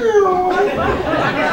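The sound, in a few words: comedian imitating a cat's reaction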